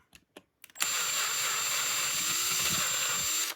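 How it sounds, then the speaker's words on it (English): A power drill bores through a Hogue real steel grip for a Tokyo Marui SIG Sauer P226 gas blowback airsoft pistol, running as one steady loud whine for about three seconds after a few short clicks and taps. "I'm just going to offer this up into here and just drill this out"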